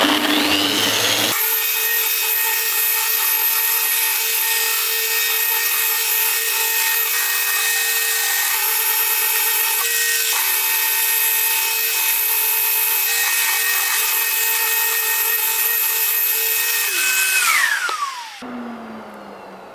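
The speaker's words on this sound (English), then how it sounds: "we've gone through all the processes of all the sanding" A power sander runs steadily on a Corian worktop for about seventeen seconds, a loud, close, continuous whine with a slight dip midway, then winds down to a stop.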